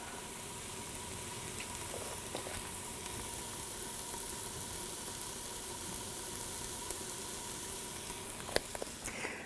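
Onions with salt cooking in a pot for a lentil stew, a soft continuous sizzle with faint steam hiss and occasional small clicks, steady and fairly quiet throughout.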